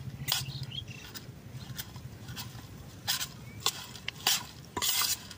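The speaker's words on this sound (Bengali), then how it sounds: "এই যে দেখেন কাঠল বিচি কি সুন্দর করে ভাজছি" Jackfruit seeds frying in a pan while being stirred, with a soft sizzle under repeated scraping clatters of a spatula, the clatters coming in irregular bursts and growing louder toward the end.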